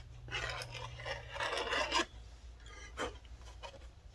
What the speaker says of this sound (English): scrape the flashing off there